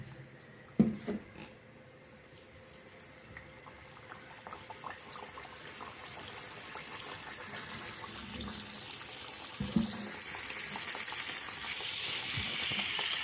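Sweet athirasam made from ration rice and sugar fries in hot oil. A low sizzle builds to a strong, bubbling hiss toward the end, with a few light knocks of utensils.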